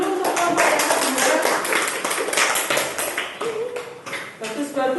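A classroom audience applauds the second student group: a dense, steady patter of many hands clapping throughout, close and fairly loud, mixed with voices.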